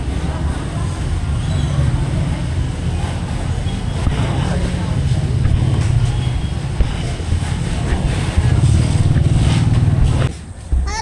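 A motorcycle rides home along the road, its engine a steady low drone with wind rush throughout, dipping briefly near the end, while people talk faintly.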